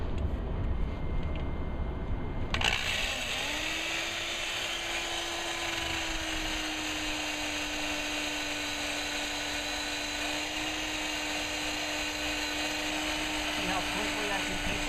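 A 3M eraser wheel tool spins against a vehicle's vinyl graphics, a loud steady high whine that starts abruptly after a short quiet and holds at an even pitch.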